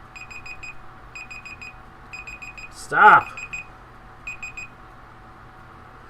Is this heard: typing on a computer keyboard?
no